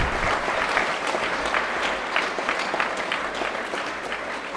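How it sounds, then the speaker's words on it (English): An audience claps for joint prize winners at a school prize-giving, dense sustained applause throughout, fairly close and loud. "So please give them a round of applause."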